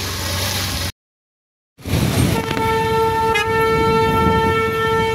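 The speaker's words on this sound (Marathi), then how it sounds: "बघा इकडे ट्रेन पण चालू झाले आमच्या इकडे." Rumbling train noise up close, then a long steady horn blast sounding over the rolling clatter after a brief gap of silence.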